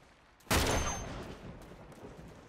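Gunfire in the video game Uncharted 2: one loud, sharp blast bursts out after a quiet moment, then fades into a long, rumbling tail.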